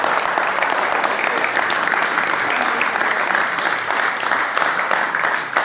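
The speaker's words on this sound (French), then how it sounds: "Applaudissons." A church congregation applauds together in sustained, dense clapping that stays steady and loud throughout, with no talk over it.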